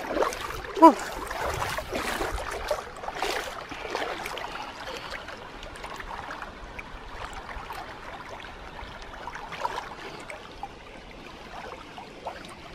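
A highland stream in a mountain town flows with a continuous broadband rush and burble, busier and louder at first, then settling into a steady, moderate gurgle.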